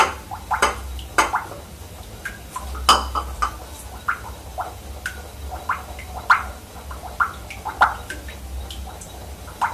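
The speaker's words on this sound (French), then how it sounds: "Vous mettez la vitamine et vous remuez tout simplement." Homemade brightening serum with sweet almond and papaya oils, vitamin just added, stirred in a small container, giving light repeated clinks and wet swishes at an irregular rhythm, close and fairly quiet with no talking.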